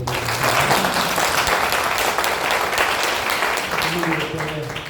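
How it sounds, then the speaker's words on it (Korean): A monthly meeting audience gives a big round of applause for the director, a steady wash of clapping lasting several seconds with faint voices mixed in. "우리 이혜규 실장님한테 한번 박수 크게 보내주십니다"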